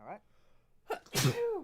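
A single sharp human sneeze during a tabletop Kill Team wargame session, loud and close, preceded by a brief spoken word and a short inhale.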